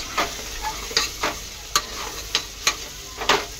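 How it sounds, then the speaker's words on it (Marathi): Masoor pulao with biryani masala fries in oil while being mixed, close sizzling punctuated by a regular series of sharp spatula scrapes and clinks against the pan; no voices. "त्याला चांगलं फ्राय करून घेऊया आपण मस्तपैकी तेलामध्ये।"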